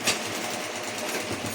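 Fabric runs through a sewing machine in a close, steady, buzzing whir with a fast needle rhythm that carries on without a break.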